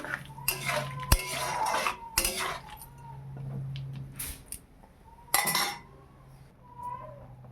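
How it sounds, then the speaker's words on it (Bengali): Mustard paste being stirred with fried prawns and pumpkin in a cooking pan, intermittent scraping and clinking of a utensil against the metal pan in several separate strokes, fairly close with quiet gaps. "দিয়ে এটাকে আমি ভালো করে নেড়ে নেব।"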